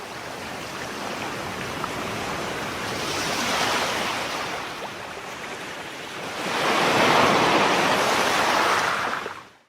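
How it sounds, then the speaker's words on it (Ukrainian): Sea waves surge and wash in a steady roar, swelling twice into louder breaking surf before fading out. "Як же гарно шумить море!"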